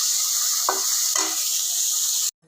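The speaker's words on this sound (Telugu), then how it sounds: "నల్లేరు కూడా వేసాను, వేగుతుంది అన్నమాట." Veldt grape (nalleru) stems sizzle steadily as they fry in a pan, a loud continuous hiss broken twice by short stirring scrapes, then cutting off abruptly near the end.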